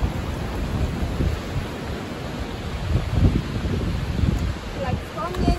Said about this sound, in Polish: Nie wiem, czy słyszycie, jak wieje.